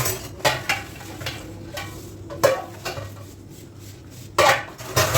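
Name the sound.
washing large utensils with detergent soap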